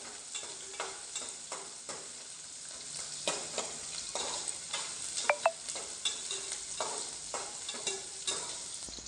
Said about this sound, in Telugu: తర్వాత ఆనియన్స్ వేసేసుకున్నాం. రెడ్డిగా వేయించుకోవాలి.